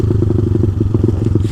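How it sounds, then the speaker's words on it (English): Small motorcycle being ridden, its engine a loud close pulsing putter with fast regular firing beats and wind buffeting over it. "This little bike's been a blast so far."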